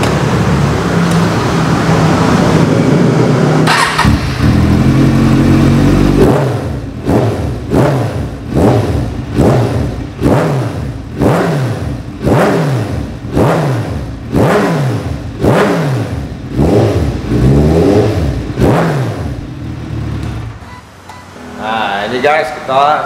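A big motorcycle fitted with a titanium exhaust roars steadily in a garage, then fires off a long run of sharp, evenly spaced throttle blips, loud and close.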